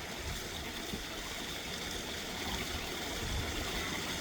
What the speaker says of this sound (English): The waterfalls are freezing up a little bit more because it's still cold here